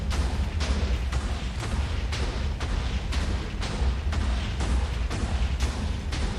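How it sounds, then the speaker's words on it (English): Repeated booming blasts from a video game, roughly a dozen evenly spaced thumps in a steady dense barrage, loud and continuous with no talking over them. "Shouldn't feel any of the explosions."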